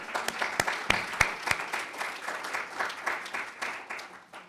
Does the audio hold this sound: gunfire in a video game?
no